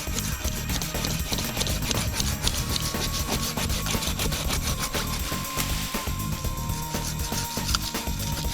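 A small tree is trimmed with a hand saw for a deer mock scrape, giving continuous rhythmic rasping and wood-cutting strokes, close and fairly loud, with no talking.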